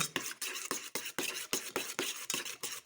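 Steady rhythmic stirring of a thick mixture with whole-grain mustard in a bowl, about a dozen scraping strokes in a regular pattern, close and fairly quiet.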